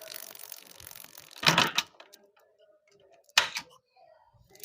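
Front sprocket of a Hero Passion Pro motorcycle running after repair, giving a soft continuous mechanical whir broken by two louder clattering bursts. No clear ticking rhythm stands out.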